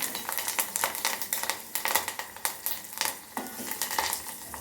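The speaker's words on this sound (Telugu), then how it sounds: "తాలింపులో కరివేపాకు ఇలా చిటపటం అంటేనే" Curry leaves and mustard seeds crackle in hot oil for a tempering, with irregular quiet pops and spits alongside light stirring clinks from a utensil in the pan.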